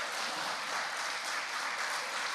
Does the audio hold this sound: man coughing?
no